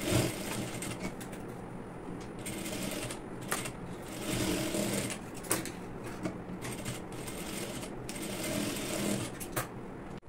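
A sewing machine stitching the neck and armholes of a baby top, running in close, steady bursts of rapid mechanical chatter separated by short pauses.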